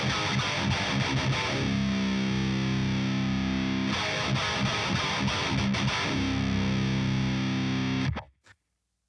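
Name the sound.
distorted electric guitar riff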